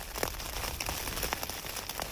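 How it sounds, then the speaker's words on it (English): Light drizzle pattering steadily on a surface on a wet, windy, cold morning in the Mongolian countryside during a motorcycle trip, a soft continuous hiss dotted with scattered individual drops. "Well, just a little bit of drizzle left."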